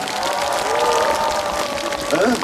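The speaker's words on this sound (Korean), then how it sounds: "다시 한번 뜨거운 박수 보내주시면 고맙겠습니다." A concert audience at a festival performance by a singer claps and cheers, a dense wash of applause with voices calling out over it.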